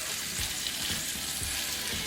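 Salmon fillet frying in a hot skillet over medium heat, a steady close sizzle with small crackles and pops, no voices.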